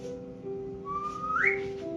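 Someone whistles on stage during a curtain-call performance of the Korean musical Demian: a short, clear, fairly soft phrase that holds steady notes and then slides upward in pitch.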